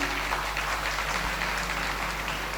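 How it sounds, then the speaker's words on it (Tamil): Audience applause at a school annual day event, a steady dense patter of many hands clapping throughout, fairly distant and even in level with no voices on top. "கைத்தட்டுங்க."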